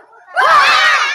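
A group of children shouting loudly together in one sustained yell lasting under a second, close and strong after a brief quiet start.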